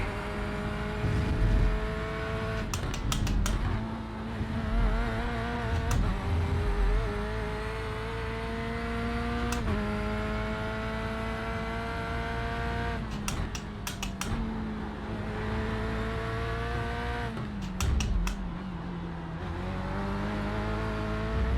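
Corvette C8.R GTE race car circling a track, its engine note loud and sustained, rising and falling through upshifts and downshifts as it powers out of corners, with sharp clattering bursts between gear changes.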